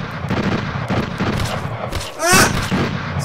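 Close, heavy gunshots in the VR shooter Rapid Fire, a few sharp bangs with a louder blast near the end, with a voice shouting over the noise.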